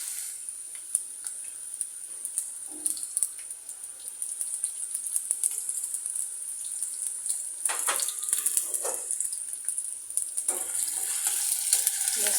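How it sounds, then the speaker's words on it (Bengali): Chopped onion for chicken biryani fries in a pan with a steady high sizzle, interrupted now and then by the scrape and clatter of stirring. "পেঁয়াজটা ভালো মতো ভেজে নিই।"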